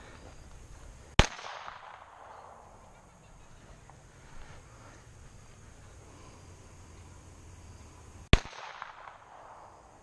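Two sharp Glock pistol gunshots at an outdoor shooting range, several seconds apart, each a loud crack followed by a brief echoing tail, with quiet ambience between.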